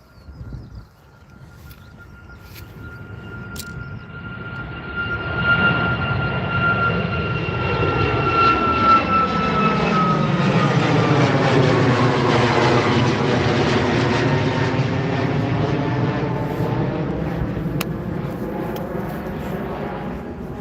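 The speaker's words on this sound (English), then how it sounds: "This Norwegian is a fairly new one. Fairly new 737 MAX." A Norwegian Boeing 737 MAX at London Gatwick, its jet engines swelling from a distant whine into a loud sustained roar with sweeping tonal shifts as it passes close, staying strong to the end.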